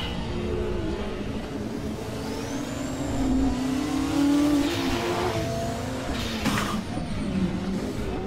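A Ford race car engine drones loudly through a lap while racing a Porsche, holding a steady mid-pitched roar with shifting tone as it accelerates, plus a brief high whine; no voices.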